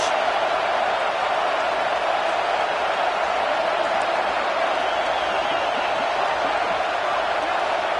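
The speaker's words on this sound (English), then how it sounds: "this crowd is turning it up a notch" Dense, steady roar of a football stadium crowd at an Alabama game, a broad wall of cheering and noise that holds loud and constant throughout with no single voice standing out.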